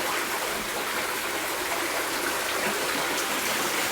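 Continuous splashing flow of water in a koi pond at a villa in Marigot Bay, St Lucia. The hiss is steady and fairly close, with no speech.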